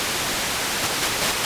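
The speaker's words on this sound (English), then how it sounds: "And oscillator 2 also has white noise." White noise from oscillator 2 of a Baby Audio BA-1 synthesizer plays as an even, full-band hiss that holds steady and loud for the whole short stretch.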